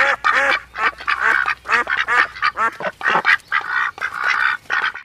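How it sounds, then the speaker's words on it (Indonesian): A white goose calling in a toy animal cleaning game, a rapid series of loud, close nasal quacks and honks in bursts, one after another with brief gaps. "ini angsa putih"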